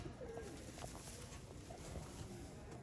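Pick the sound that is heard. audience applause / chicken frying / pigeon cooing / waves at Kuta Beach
pigeon cooing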